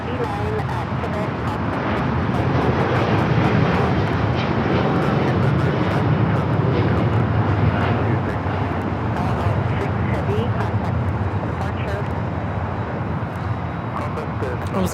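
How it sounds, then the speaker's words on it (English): An El Al Boeing 787-9 Dreamliner takes off from LAX, a loud, steady broadband jet roar filling the whole stretch with slight swelling and no talk. "That was El Al Flight 6 taking off to Tel Aviv on the 787-9 Dreamliner in the retro livery."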